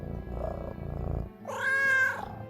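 A pet cat in a Farthest Frontier playthrough gives a low rumbling purr for about a second, then a clear, drawn-out meow close to the microphone, with no voices over it.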